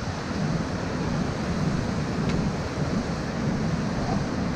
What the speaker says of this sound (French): Ah, c'est joli là, les cascades.